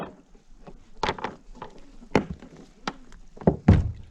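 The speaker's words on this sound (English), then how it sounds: "Now, in my seat, I just simply pull up the anchor." An anchor is hauled up from the seat of an Old Town Sportsman 120 PDL kayak, giving a string of irregular hollow knocks and thunks against the hull, loud and close.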